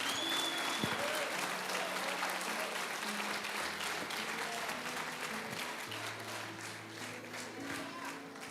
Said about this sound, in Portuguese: Aplauda mesmo a Jesus.